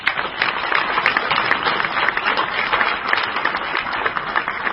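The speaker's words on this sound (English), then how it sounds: "I'd just like to have a round of applause for Tim Johnson" Steady, dense audience applause fills a dinner hall at an architecture awards ceremony, sustained and even for the whole stretch with no voices over it.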